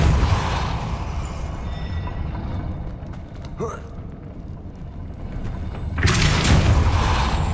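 Depulso force spell cast in the Hogwarts Legacy video game: a sudden burst of broadband magical impact rises over steady game ambience and lingers near the end, with a brief whooshing swirl just before it.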